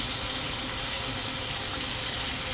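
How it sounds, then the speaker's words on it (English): Tap water runs steadily into a sink as hands are washed beneath it, a close, even rushing hiss with no talk. "First things first, you always got to wash your hands"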